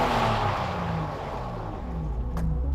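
Rear-wheel-drive Holden Commodore SS-V sedan sliding sideways, its engine droning loud and close with shifting revs and a broad tyre hiss, no talk over it.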